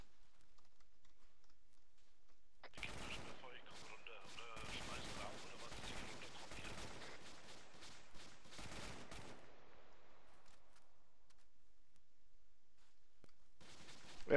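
Airsoft suppressive fire during a team-versus-team outdoor game: rapid bursts of faint, clattering shots from about three to nine seconds, then quiet, with another short burst at the very end.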